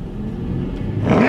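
A car driving along, the engine and road rumble a steady low drone heard from inside, rising slightly near the end.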